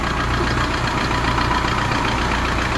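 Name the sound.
Kia Bongo 3 engine idling after valve seat repair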